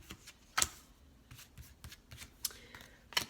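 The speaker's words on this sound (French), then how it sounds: "battre les cartes" A deck of cards is shuffled close by, with several sharp riffling bursts separated by softer handling and sliding of the cards, and no voices over them.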